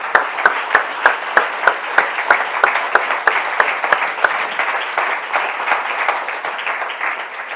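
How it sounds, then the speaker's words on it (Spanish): Congregation at a church service claps together in a loud, steady rhythm, the sharp beats merging into sustained applause that tapers slightly toward the end. "Démosle un aplauso al Señor"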